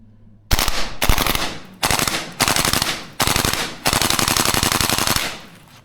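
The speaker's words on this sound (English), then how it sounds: "these guns do shoot really well in auto" A Tokyo Marui AK gas blowback airsoft rifle fires several full-auto bursts, each a rapid, loud, close rattle of cycling shots separated by brief pauses, the last burst the longest.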